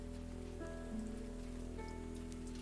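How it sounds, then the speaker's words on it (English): Rain falls steadily in the spooky indie game Picta Mori, a soft constant patter beneath faint tonal hums and game ambience, with no voices. "Are you glad it's raining?"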